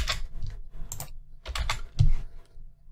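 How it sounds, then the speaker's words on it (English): Rapid keystrokes on a computer keyboard as answers are typed into an agile retrospective tool, close and clear, in irregular bursts with brief pauses between words. "as the participant types in their answers one by one, in real time"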